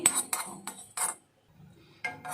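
Cumin and a small piece of cinnamon are dry roasted in a pan, with several quiet scraping, clinking stirs of a utensil against the metal separated by short pauses.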